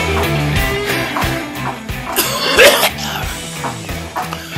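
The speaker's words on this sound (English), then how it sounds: "And my cough kicked in." A person coughs a few times during a workout over a loud, busy background of noise and music.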